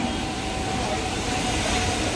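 Dense, loud rumble of a Mumbai local train at Dombivli station platform, a continuous wash of wheel and motor noise with no breaks.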